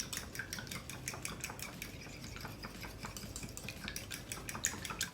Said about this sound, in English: Give this a real quick whisk.